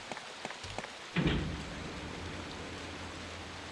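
Heavy rain in the Resident Evil Director's Cut game on PS5 hisses as a steady wash, swelling suddenly after a few faint taps and continuing evenly.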